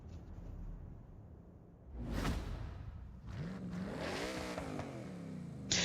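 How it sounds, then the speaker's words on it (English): A race car engine in the video game Forza Horizon 6 revs up from a low rumble and climbs through rising gears with a whooshing pass-by, loud and close with no talking. "I do like the engine sounds in this game."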